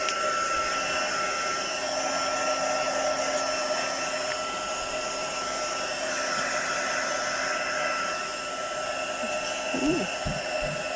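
A heat tool blows steadily on an ink-smooshed card background, making a constant close whirring hum with no break for about eleven seconds.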